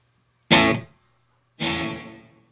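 Two electric guitar chord strikes played through reverb with a half-note pre-delay, each a sharp, loud attack that rings and decays, the second sustaining a little longer, over a low steady hum.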